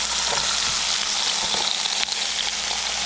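Baby back ribs sizzle steadily on a George Foreman grill, a dense continuous frying hiss held close and loud for the whole stretch with a few faint clicks underneath.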